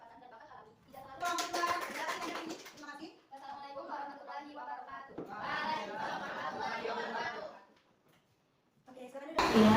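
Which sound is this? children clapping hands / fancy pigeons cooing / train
children clapping hands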